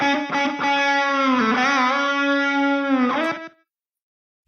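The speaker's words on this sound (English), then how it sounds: "This is like a slapback echo, right?" A sustained tone run through a triple delay plugin set as a tight slapback echo, the short repeats smearing a bright, harmonically rich note that stops abruptly into silence.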